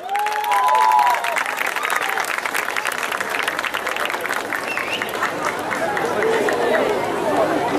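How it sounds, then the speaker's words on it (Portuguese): Audience applause after a children's ballet piece, Pequenas Sílfides, at a dance-day stage show, steady dense clapping mixed with crowd chatter and cheering throughout, fairly loud and close. "Para os aplausos!"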